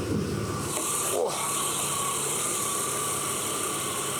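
A BMW E36 Alpina B3 engine idles steadily, a low constant hum with a faint high whine, heard fairly close with a brief rubbing sound early on.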